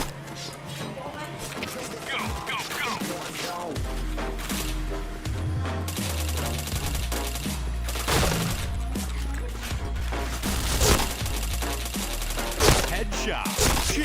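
Shooter video game gunfire crackles in rapid bursts and single shots, loud and close, layered over game effects, with a voice talking at times.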